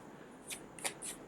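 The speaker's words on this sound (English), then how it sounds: "I'll pull one more card to go with this." A tarot card drawn from a deck, a few quick, soft papery swishes and flicks close by, faint and brief in a quiet room.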